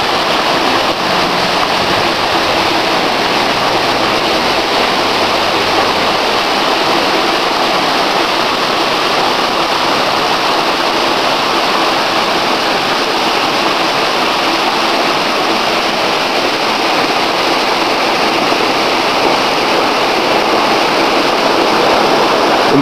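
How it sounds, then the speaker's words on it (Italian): A waterfall below a small hydroelectric plant roars steadily and loudly, a dense unbroken rush of falling water with no voices. "una bella cascata."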